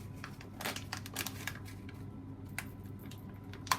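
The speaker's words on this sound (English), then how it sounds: "Let me just cut the top open." Scissors snip through the top of a package of baking ingredients for almond and lemon bars, a few short crisp cuts and crinkles close by in a quiet kitchen.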